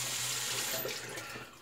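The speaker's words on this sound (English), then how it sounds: "I'm going to run the brush under the tap here." Warm water runs steadily from a tap over a shaving brush at a bathroom sink, a continuous close splashing hiss with no talk.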